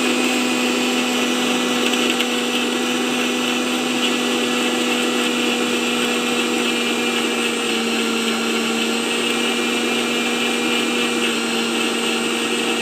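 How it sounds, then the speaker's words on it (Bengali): A blender whirs steadily and loudly for the whole stretch while blending a banana milkshake, one continuous motor drone with no pauses and no talk. "তারপর একটি ব্লেন্ডারে যে পরিমাণ মতো 10 সেকেন্ডের বেশি ব্লেন্ড করবে।"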